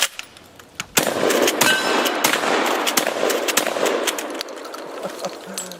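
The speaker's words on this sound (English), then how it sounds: "I shouldn't have shot a slug at that plate that quick." A shotgun slug striking a steel plate: a few scattered sharp knocks come first, then a loud crack that rings into a long, hissing metallic wash with small clanks inside it, slowly fading.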